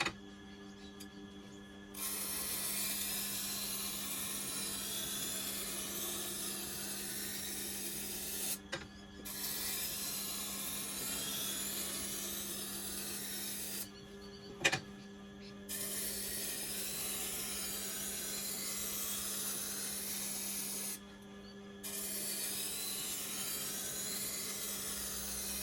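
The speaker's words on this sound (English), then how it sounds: "They're made of very hard steel, and so they can take a bit of slow grinding." A Tormek grinder slowly grinds a hard steel Sabatier cleaver, a faint, steady whirring rasp with a low hum, stopping briefly several times before resuming, with no talking.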